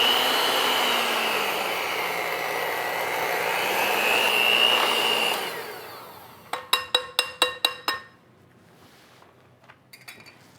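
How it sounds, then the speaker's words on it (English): An electric hand mixer whirs steadily for several seconds while beating butter and milk for a peaches and cream pie filling, its pitch wavering, then stops, followed by a quick series of sharp taps. "I am going to mix it with the mixer, hand mixer"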